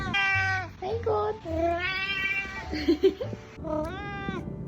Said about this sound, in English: then she goes meow